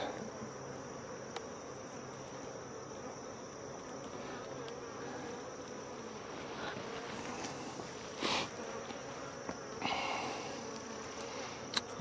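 Defensive honeybees at a hive hum in a steady, continuous drone nearby, with a few brief louder buzzes as individual bees fly close, and no talking.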